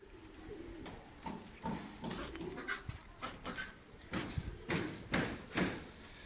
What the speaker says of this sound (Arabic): ده يا جماعة طائر الكيروان، طائر الكروان.